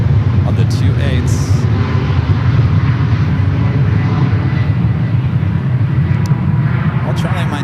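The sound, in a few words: Lufthansa Boeing 747 heavy arriving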